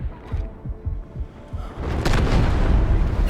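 An artillery barrage in the Delta Force video game lands as a string of deep booming explosions. Several spaced thuds come first, then a heavier, sustained rumbling blast.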